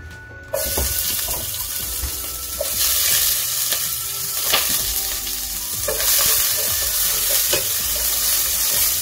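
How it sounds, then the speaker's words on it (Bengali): Spring onions sizzle loudly in a hot pan, stirred with repeated clacking and scraping strokes of a spatula, a steady close frying hiss running under the irregular knocks, no voices. "পেঁয়াজটাকে নাড়িয়ে নেবো"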